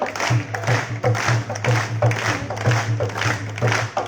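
Group of worshippers clapping together in steady rhythm at an outdoor Hanuman bhajan gathering, broadband claps repeating about every half second over a constant low hum, loud and close.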